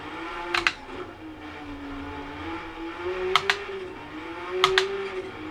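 Porsche 962 race car on race soft tyres in Gran Turismo 7: a steady engine drone rising and falling in pitch, fairly quiet, broken by three brief clattering clicks spaced a few seconds apart.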